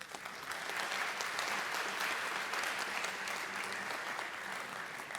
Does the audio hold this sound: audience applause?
yes